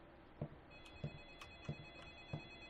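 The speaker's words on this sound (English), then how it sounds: "Where's my phone?" A telephone rings in a video game, a repeating electronic ringtone with evenly spaced pulses about every half second over a steady tone, fairly faint and heard alone.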